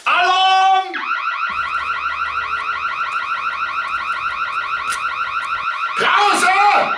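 A loud electronic alarm blaring in a rapid repeating warble for several seconds, with an agitated voice shouting over it at the start and the end.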